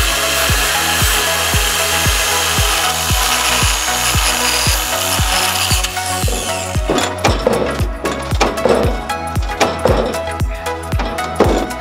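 A power tool cuts through long pieces of scrap metal, loud and close, with a steady grinding whine over a thumping beat that turns into harsher, irregular scraping partway through.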